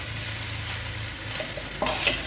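Semiya being stirred in a pan on the stove, a few soft scraping and clinking strokes with a faint sizzle in the background, near and alone with no voices.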